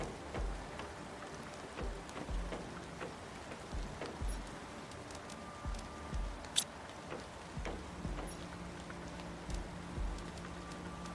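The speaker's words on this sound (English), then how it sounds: "If you're wondering what that pitter-patter is in the game, that is rain." Rain patters in the game Planet Crafter, soft and steady, with scattered light ticks and taps over a low background hum.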